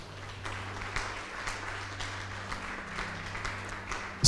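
A church congregation applauds in worship: soft, scattered clapping under a low steady hum, continuing for several seconds before a sudden loud burst at the end.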